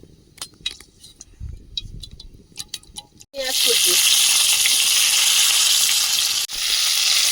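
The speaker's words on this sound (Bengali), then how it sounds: "আর তেল দেবো না তেলে দিয়ে দিচ্ছি পাঁচ ফোড়ন" Panch phoron spices dropped into hot oil burst into a loud, steady sizzle that starts abruptly and holds, after a stretch of quieter kitchen clatter and faint voices, for a Bengali okra fry.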